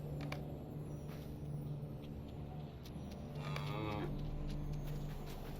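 Cows mooing in the video game LOTRO, a drawn-out low moo rising out of a steady hum of ambient game noise, moderately close and alone without talk.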